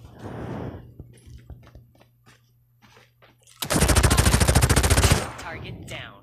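Maddox rifle in Call of Duty Mobile firing a single long, rapid automatic burst, loud and close, after quieter game sounds and faint clicks.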